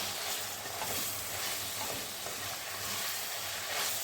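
Turmeric being stirred into hot frying oil in a pan while cooking vangibhath, a steady close sizzle and hiss with soft scraping stir sounds throughout.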